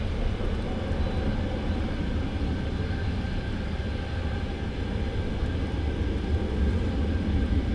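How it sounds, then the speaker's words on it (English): Wizz Air airliner taxiing at Luton Airport in the early morning, a steady, continuous engine rumble and whine holding at a constant level throughout, with no voices present. "Wizzair now taxiing on."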